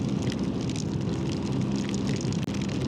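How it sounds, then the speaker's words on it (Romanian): Rain falls steadily outdoors under dark skies while a strong, unrelenting wind blows, making a constant close hiss and rumble with no pauses. "plouă și vântul ăsta care nu se mai oprește"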